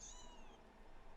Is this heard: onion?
no